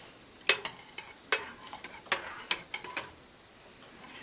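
Dried lavender stirred into melted melt-and-pour soap base in a jar, a handful of quiet scraping and tapping strokes of a utensil against the container, close but faint.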